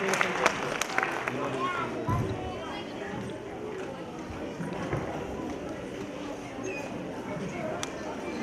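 Loud applause from the audience at an Islamic quiz contest, a dense, sustained clatter of clapping that keeps going while people talk over it.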